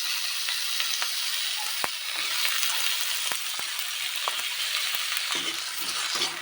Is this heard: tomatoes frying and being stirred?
yes